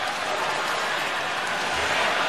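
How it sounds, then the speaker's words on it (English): Fans at the 2010 World Juniors Canada vs. USA gold medal hockey game serenade USA goalie Jack Campbell, a dense, loud crowd roar with clapping that fills the arena without pause. "Crowd serenading Jack Campbell."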